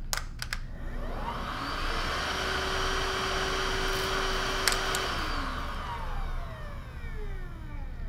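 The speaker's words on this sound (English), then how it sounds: "I want you to hear the real sound of the machine on high" A Miele Triflex HX1 cordless vacuum runs on its high setting with a steady, fairly quiet whine that ramps up, holds, then winds down, close by with no talking.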